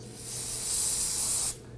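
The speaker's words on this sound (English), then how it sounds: "go ahead and spray that down with some spray solvent" Brake cleaner solvent is sprayed onto a car's brake caliper in one short, close, continuous aerosol hiss lasting about a second and a half before it cuts off.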